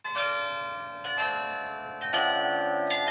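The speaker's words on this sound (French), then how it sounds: "Le carillon, c'est pas seulement une sonnerie automatique, c'est aussi un instrument de musique à part entière." Carillon bells of the Douai belfry ring out in a slow sequence of four bright, resonant strikes about a second apart, each tone ringing on and overlapping the last.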